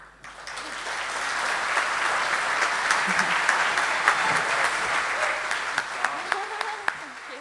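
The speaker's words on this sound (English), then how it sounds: "Please give one more big round of applause for Rachel Wong, our keynote speaker." A conference audience applauds after a keynote talk at a hacker event, a steady, dense wash of clapping that fills the room from start to finish with a few sharper claps standing out near the end.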